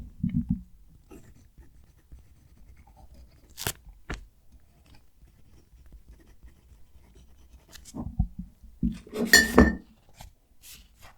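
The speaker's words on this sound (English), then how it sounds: "so you can hopefully hear the pen write" A Jinhao 9016 fountain pen scratches across paper up close, a soft, faint scritching broken by a few sharper clicks and taps of handling.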